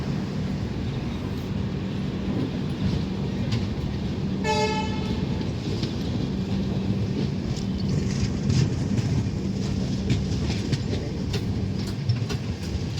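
Humsafar Express train pulling out of Dhanbad junction, a loud steady rumble of the moving carriages with one short, sharp horn toot early on, then continued rolling clatter.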